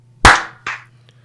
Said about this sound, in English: Clap check